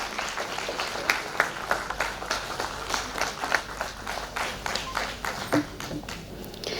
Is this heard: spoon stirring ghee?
no